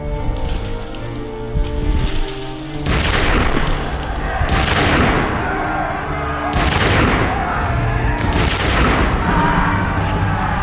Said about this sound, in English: They were just 40 paces away when the Duke gave the order to fire.